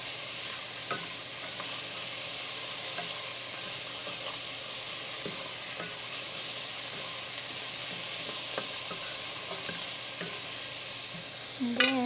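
Carrots sizzling as they are sautéed and stirred in a hot pan, a steady frying hiss with scattered clicks of a utensil, close and even throughout.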